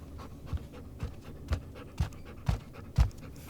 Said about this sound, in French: c'est le chien du directeur